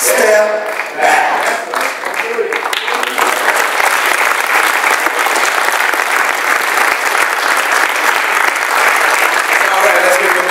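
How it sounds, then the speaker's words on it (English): A church-hall audience at an NAACP gathering breaks into loud, sustained applause, a dense wash of clapping that holds for about ten seconds. "let's give them a big round of applause"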